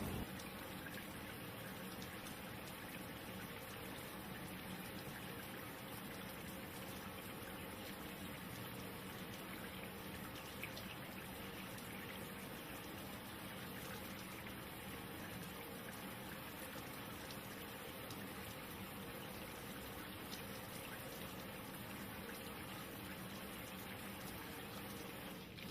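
Water runs steadily from a sink faucet during a surgical hand scrub, a continuous broadband rushing that holds at an even level for the whole stretch, with no talk.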